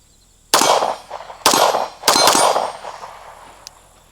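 Three sharp pistol shots at an outdoor range from a Fusion Firearms XP-Pro 2011 fed by a Magpul Glock magazine, loud close reports spaced under a second apart with ringing decay, no talk.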